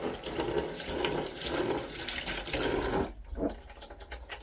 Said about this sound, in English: But I'm going to give this a little rinse.